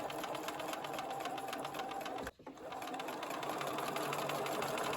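A sewing machine runs fast and steady while stitching quilt triangle units, with a rapid rhythmic whir that briefly stops for a moment midway and then resumes.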